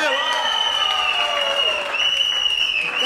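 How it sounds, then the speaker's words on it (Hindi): Loud, sustained audience applause fills a live comedy stage show, dense and continuous clapping throughout, with a tonal whine running over it. "मनोज इंस्पेक्टर को आप लोग की जोरदार ताली अच्छी लगती है।"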